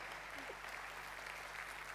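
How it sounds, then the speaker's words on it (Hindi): A lecture audience applauds, a faint, distant, uniform wash of clapping that stays level, with a low hum underneath. "जोरदार तालियां लोगों के लिए।"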